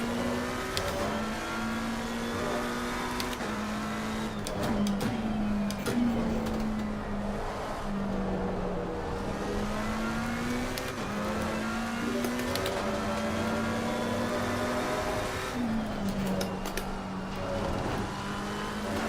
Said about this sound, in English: We're moving a race car around the circuit